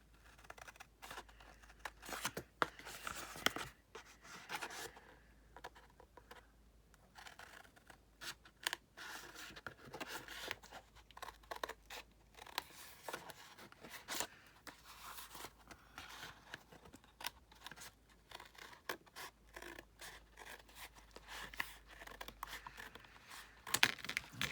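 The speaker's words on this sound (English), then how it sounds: "I'm just going to use this as a template to cut" Scissors snip through a paper napkin following a template, giving soft, quiet, irregular cuts and light paper rustles spread across a long stretch with no talk.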